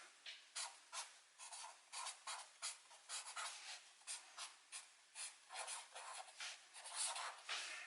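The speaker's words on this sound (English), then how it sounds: "get our journal and write the name of the task" Pen or pencil scratching across the pages of a journal as a task name is written down, steady rhythmic strokes repeating close and quiet, with no voices.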